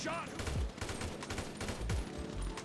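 Gunfire in GTA V, a busy spread of shots and bursts running through most of the moment, with voices faintly mixed beneath the shooting.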